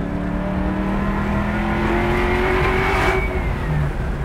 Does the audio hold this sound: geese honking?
no